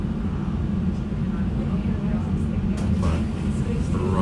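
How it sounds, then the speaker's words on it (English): An old tram rolling through Helsinki, heard from inside as a steady, loud low rumble with rattling and rough track noise throughout; a voice speaks faintly under it. "this is the old tram, not so smooth."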